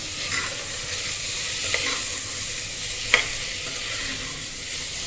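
Potato, peas, carrot, tomato and onion being sautéed in hot oil, giving a steady close sizzle with a few sharp scrapes and clinks of a stirring spoon against the pan.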